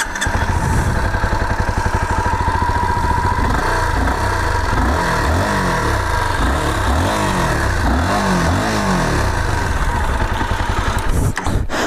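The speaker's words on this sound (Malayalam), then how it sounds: "ഇനി ഞാൻ നിങ്ങൾക്ക് ഈ വണ്ടിയുടെ സൗണ്ട് ജസ്റ്റ് ഒന്ന് കേൾപ്പിച്ചു തരാം." A Honda CBR250R motorcycle engine idles with a steady, loud thrum, then revs up and down repeatedly in rising and falling sweeps before settling back, heard close up with no talking.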